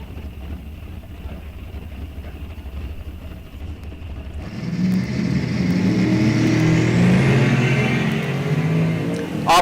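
Drag race cars, including a supercharged big-block entry, launch off the line in a $7,500 bracket race, a steady rumble giving way after a few seconds to a loud, sustained engine roar with wind buffeting the microphone.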